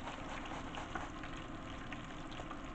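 Battered pickles for a vegan burger fry in hot oil with a steady, dense sizzle and fine crackling, close by and continuous without a break.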